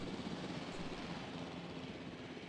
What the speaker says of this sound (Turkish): Pilot helikopter.